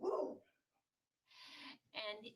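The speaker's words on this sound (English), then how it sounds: "Excuse the dogs barking." Dogs bark in a few short bursts, fairly distant and indoors, separated by brief silences.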